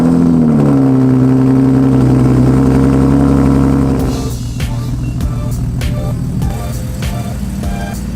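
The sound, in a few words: Nissan 370Z engine cold start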